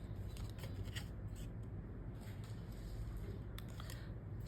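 Scissors cut angled notches into VHS tape box paper up close and quietly, a string of short crisp snips and rustles at an uneven pace.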